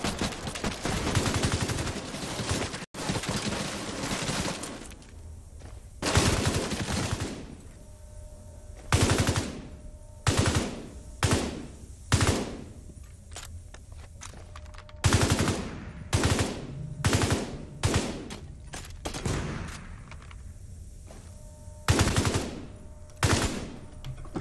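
A mounted heavy gun in The Division 2 fires in repeated loud bursts, close and punchy. Over about twenty seconds the bursts come in a choppy rhythm with brief pauses between them, and no voices are heard.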